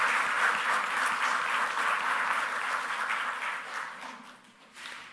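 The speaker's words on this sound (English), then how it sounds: "Let us have a big round of applause for our guest speaker" A room full of people at an accountants' career-preparation event in Dubai applauds a guest speaker, with dense, even clapping that gradually thins and fades toward the end before a brief swell.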